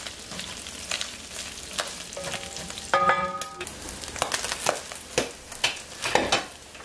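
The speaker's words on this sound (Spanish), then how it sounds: "voy a estar friendo el chicharrón así" Chicharrón frying in a pan, a loud close crackling sizzle with sputtering pops and a few metallic clinks of a utensil against the pan, no speech.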